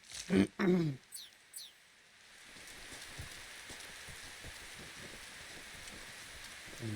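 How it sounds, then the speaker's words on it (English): Steady rain falls in the video game Metal Gear Solid Delta: Snake Eater, a soft continuous patter with scattered drops that begins after brief speech at the start. "Because it's raining."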